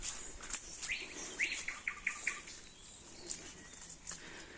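A nightingale sings in an abandoned, overgrown village: bright whistled phrases and rapid chirps repeat in short bursts, moderately close, over a quiet background with no talking.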